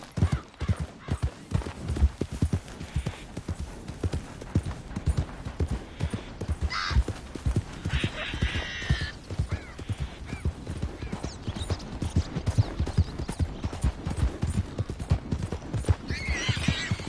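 Horse hooves clip-clop in a PS4 video game, a quick, steady run of sharp hoofbeats over about seventeen seconds, with occasional brief bursts of other game noise and no voices.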